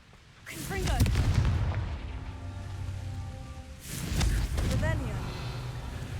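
In Hogwarts Legacy, the Confringo fire spell lands twice as deep booming blasts with crackling, rumbling tails, loud and close, with game effects and a voice casting the spell.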